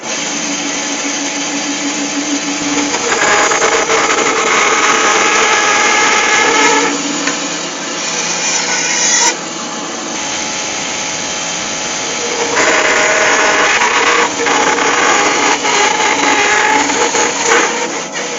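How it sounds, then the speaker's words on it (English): Bandsaw cutting a V notch into a piece of wood for a woodturned woodpecker, a loud, steady motorized whine with rising and falling cutting strain across several passes, no talk. "I'll just quickly cut that on bandsaw"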